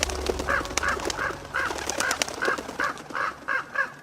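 A series of about nine harsh bird caws, evenly spaced roughly every half second, like large crows calling nearby over a low background rumble.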